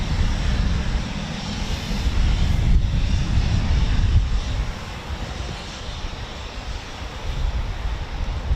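A Eurofighter Typhoon FGR4 fighter jet at RAF Coningsby, its engines a steady, broad, loud roar that holds for several seconds, swelling slightly and then easing.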